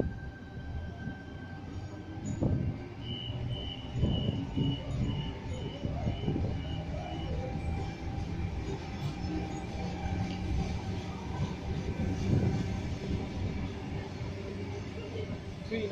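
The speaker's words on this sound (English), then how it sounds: "Tangaras now departing." A Sydney Tangara electric train pulls out of Lindfield station, a steady rumble of wheels and motors filling the platform with some passing voices and a brief whine, sustained and moderately loud throughout.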